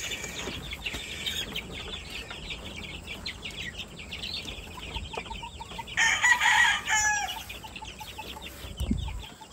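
Breeder chickens crowd together in an outdoor brooder, clucking steadily, with a rooster crowing loudly partway through and a few thumps near the end.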